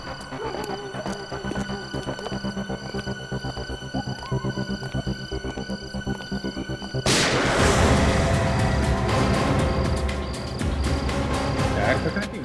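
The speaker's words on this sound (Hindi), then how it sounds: "आवाज तो गोली चलने की है" Gunfire in a tense crime-drama scene: a sudden loud burst of sharp reports at about seven seconds over a dense, droning soundtrack, followed by sustained noisy rumble and echoing clatter.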